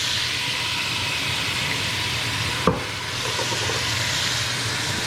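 Pot roast pan being deglazed with wine, a loud continuous sizzle and hiss of liquid in the hot pan, broken once by a single sharp clink or scrape midway, no voices.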